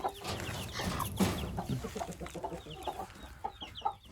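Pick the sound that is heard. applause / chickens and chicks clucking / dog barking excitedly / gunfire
chickens and chicks clucking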